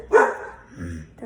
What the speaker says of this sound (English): my dog, guys